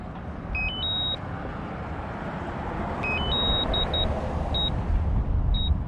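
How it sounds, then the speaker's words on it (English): A DJI Smart Controller's return-to-home beeps sound as short electronic tones in rising two- and three-note patterns, repeating several times over a steady broadband whoosh of wind or motor noise. "You hear the return home beep."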